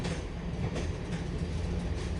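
A moving train in the video game Dark Cloud 2 makes a steady, loud rumble with a faint rhythmic clatter running throughout, and no voices.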